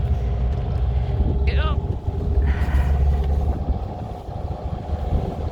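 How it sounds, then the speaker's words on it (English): A rough-running project vehicle engine drones low and steady as the vehicle creeps along outdoors, with wind buffeting the microphone and people talking over it. "I don't know that this engine's running very well either"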